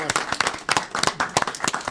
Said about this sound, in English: One last round of applause for our guests, please.